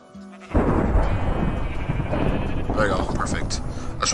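Sheep in a Minecraft barn build give a burst of bleating that runs continuously for several seconds, loud and close. A voice talks over it.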